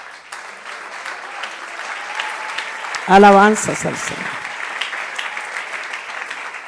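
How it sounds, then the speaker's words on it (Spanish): A church congregation at a Spanish-language sermon claps in a steady, dense wash that runs the whole time. A voice speaks briefly over it near the middle. "Dele un aplauso al Señor."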